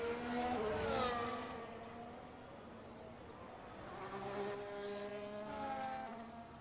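Quiet, whining engine of a video-game racing car at the Qatar circuit, pitch sweeping up and down as it accelerates and shifts, fairly faint and without talk.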